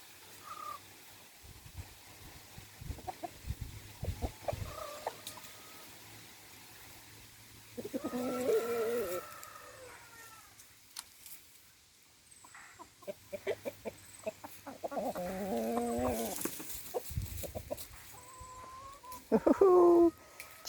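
Backyard rescue hens and a rooster on an aquaponics homestead, giving scattered clucks and calls that rise in bursts, fairly close, with quiet gaps between and no talk.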